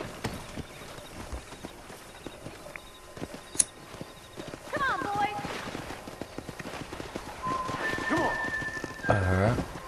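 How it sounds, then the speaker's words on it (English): Horses galloping in the Red Dead Redemption video game, rapid hoofbeats drumming across the clip with occasional whinnies, swells of engine-free game ambience, and a person speaking over it. "Let's see if we can't wrangle some horses."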